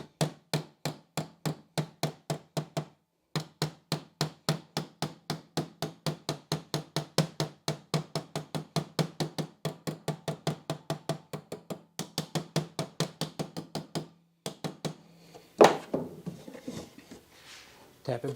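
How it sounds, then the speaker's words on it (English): A hammer taps a wooden dresser drawer track back into place, a long run of regular, close, sharp knocks with brief pauses, then a few looser bumps and handling noise at the end. "tap it back in place like that"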